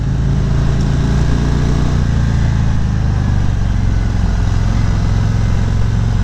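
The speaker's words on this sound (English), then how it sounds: "The exhaust sounds pretty nice on this bike as well." A 2018 Harley-Davidson CVO Limited motorcycle's exhaust rumbles steadily throughout, a loud, deep, continuous drone of the engine running without any voices.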